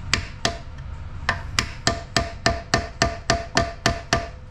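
A hammer drives a small screwdriver used as a chisel against a stuck access bolt on a 2003 Chevy Cavalier, a dozen sharp metallic strikes, close and loud, falling into a steady rhythm after a few uneven opening taps.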